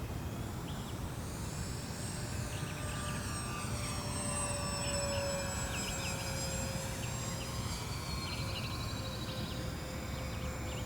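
An E-Flite Twin Otter RC model airplane with twin electric motors flies at a distance, giving a steady whining buzz with gently shifting pitch over a constant outdoor hiss, no talk.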